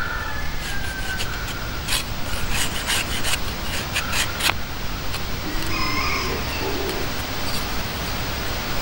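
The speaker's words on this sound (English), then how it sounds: "you can go along the edge here and just put a bit of a bevel on it" A blade shaves a bevel along the edge of a handmade wooden tent peg in repeated rasping, scraping strokes up close, with faint birdsong outdoors behind.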